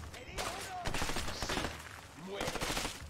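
Shotgun blasts ring out in the video game A Way Out, several sharp, loud bursts of gunfire arriving in clustered volleys with brief gaps between them.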